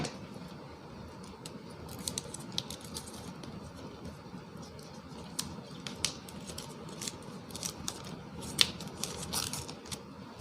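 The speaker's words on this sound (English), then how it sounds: "Gonna cut open the plastic." Scissors snipping and tearing plastic shrink wrap on a Cyberpunk 2077 retail edition game box, with close crinkling and crisp cutting clicks scattered over a steady low background.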